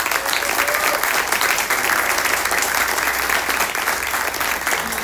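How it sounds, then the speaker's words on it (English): An audience at a high school girls' team awards event claps steadily for about five seconds. The applause is dense and sustained, with no break. "they definitely deserve an applause for that"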